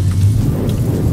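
A low, steady engine idle of a concept car in Roblox Jailbreak rumbles throughout, overlaid with a soft hissing patter that sounds like rain.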